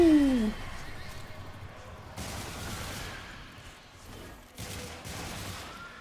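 Gunfire from the Icarus Incarnate in Warframe comes as a few punchy bursts with trailing echo, spaced a couple of seconds apart over a dim game backdrop.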